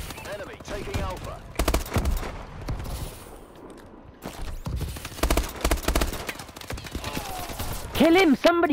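Bursts of rapid gunfire from the shooter Call of Duty: Advanced Warfare come in sharp, loud clusters separated by pauses, mixed with game effects and someone talking between volleys.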